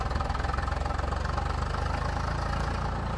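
A tractor engine idles in the Farming Simulator 22 video game, a close, steady, pulsing low throb running without pause, with no voices.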